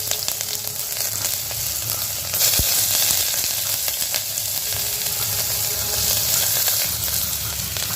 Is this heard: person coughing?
no